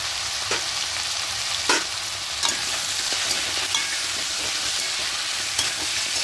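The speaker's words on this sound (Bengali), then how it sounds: "দিয়ে একটু হালকা করে কষিয়ে নেবো, আদা রসুনের কাঁচা গন্ধটা চলে যাওয়া পর্যন্ত" Ginger-garlic paste sautéing in hot oil with salt, a steady close sizzle broken by several sharp scrapes and clacks of a spatula stirring the pan, with no voices.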